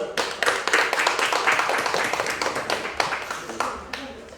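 Church congregation clapping at a pastoral ordination service, a dense run of hand claps for several seconds, moderately loud, with some voices mixed in.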